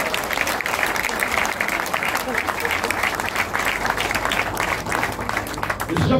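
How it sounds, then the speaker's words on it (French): An audience applauds the first lady at an event with the culture minister and comedian artists, sustained dense clapping at steady volume throughout, with voices mixed into the crowd noise. "Applaudissez pour la première dame"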